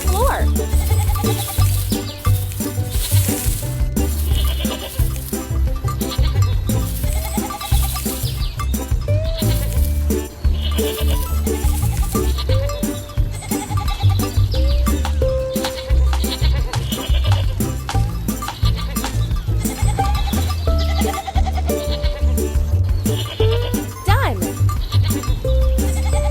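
Goats bleating repeatedly in a preschool farm animals game, cartoonish calls recurring over cheerful game music and chimes.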